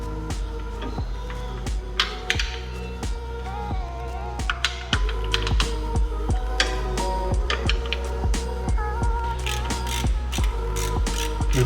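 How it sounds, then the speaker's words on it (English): Bolts being tightened on the torque converter inspection cover of a BMW M10 engine install, with rapid, close ratchet clicks in quick runs over a steady background hum. "So here I'm just tightening up the inspection cup"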